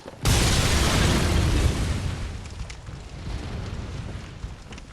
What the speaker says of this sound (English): Those are exploding barrels.